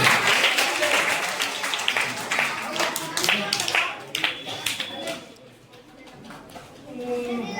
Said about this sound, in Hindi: ताली बजाना में किसी बात का कम है।